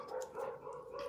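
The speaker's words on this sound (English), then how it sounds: "I'm sorry about the dogs barking" Pet dogs bark in a loose run of overlapping yaps and woofs, somewhat distant and muffled, continuing through the whole short stretch with no talk.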